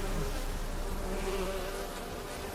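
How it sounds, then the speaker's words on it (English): A swarm of bees in The Witcher 3 video game gives off a dense, continuous buzzing drone that stays even and fairly close for the whole stretch, with no speech. "No, it's just a bunch of bees."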